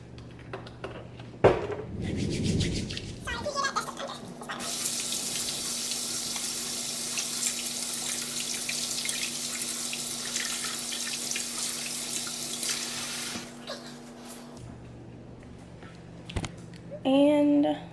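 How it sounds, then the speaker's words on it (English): A kitchen tap runs steadily while hands are washed under it, a continuous close splashing rush lasting most of the clip, with clatter and brief voice sounds at the start and end. "gotta wash my hands real quick"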